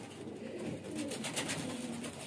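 Baby highflyer pigeons cooing softly nearby, a few low, throaty warbling coos in a quiet room with faint background hiss and no talk.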